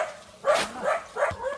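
A dog barking outdoors in a hillside village at Adoor mala in Idukki: three fairly close, yelping barks in a quick irregular run, with faint background noise.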